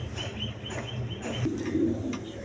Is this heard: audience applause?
no